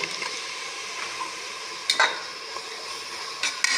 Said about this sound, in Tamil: அதையும் நல்லா இந்த மாதிரி காந்தாமல் அடி பிடிக்காமல் வதக்கிடலாம்.